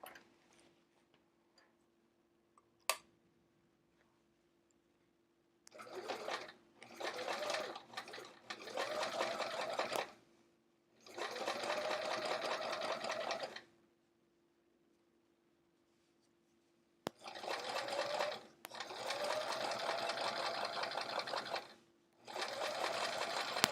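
A sewing machine top stitching fabric for inside pockets of a travel art folio runs in four close, rapid bursts of a few seconds each, separated by pauses, with faint handling ticks in between.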